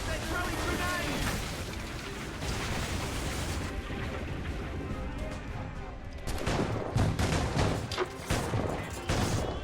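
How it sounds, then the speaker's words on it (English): In a naval battle in the video game Assassin's Creed Rogue, grenades and gunfire burst in a dense, continuous clatter of blasts and crashes, with heavier impacts toward the end. "They're throwing grenades!"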